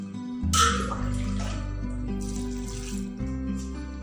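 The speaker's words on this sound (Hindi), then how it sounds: "2 ग्लास पानी डालेंगे" Two glasses of water are poured into a pressure cooker holding pav bhaji vegetables, a short splashing burst near the start that fades under steady background music.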